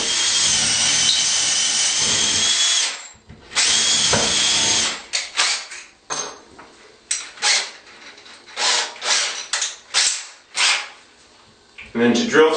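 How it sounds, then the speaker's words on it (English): A power drill bores a pilot hole through an onyx shower panel into wood backing for a diamond corner seat, running in repeated short bursts that start and stop, close and loud, with brief pauses between them. "So we'll start with the pilot drill."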